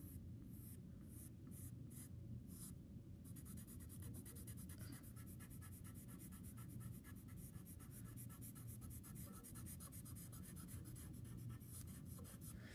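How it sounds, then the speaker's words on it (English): A charcoal pencil scratches and rubs across paper in a steady stream of close, soft strokes, busier and more rhythmic after the first few seconds, with no voices. "maybe I'm going to go in with my charcoal pencil"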